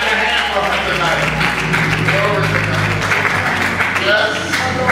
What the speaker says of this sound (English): Clap your hands for her tonight.